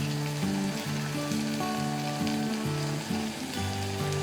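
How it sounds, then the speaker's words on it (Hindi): Soaked chana dal sizzling with onions in a pan over a high flame, a steady close frying hiss with a faint musical tone running underneath. "इसे ऐड करके हम फ्लेम को हाई करके अच्छी तरह से इसे भी प्याज के साथ फ्राई कर लेंगे"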